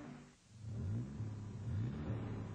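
Car engine revving with a faulty, dangerous exhaust system, a close, rough, mid-pitched rumble that rises and falls in two revs, heard alone without talk.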